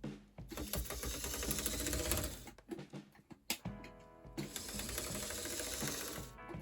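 A Bachmann HO scale BQ23-7 locomotive chassis with a cracked gear runs under power, giving a close, continuous mechanical whir with rapid ticking and grinding from the gearing, briefly stalling midway before whirring steadily again.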